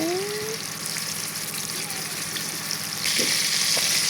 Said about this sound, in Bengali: প্রথমে মাংসগুলো ভেজে নিচ্ছে গরম তেলে দিয়ে